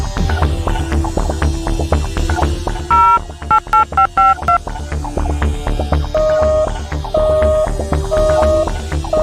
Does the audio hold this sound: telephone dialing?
yes